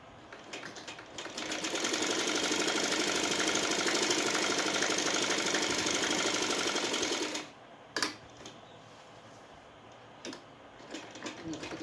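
Domestic sewing machine stitching a seam on a simple salwar, a steady close whirring run of several seconds that stops abruptly, followed by quieter handling clicks and faint knocks.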